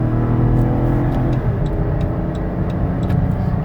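A 2016 Dodge Caravan mobility van accelerates on the highway, a loud, close engine drone with a falling whine as it shifts, plus road rumble and faint ticking inside the cabin.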